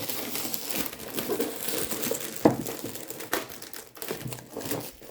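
Festive foil gift wrapping crinkles and crackles close up as it is handled and torn during present opening, in irregular loud rustling bursts with no talking.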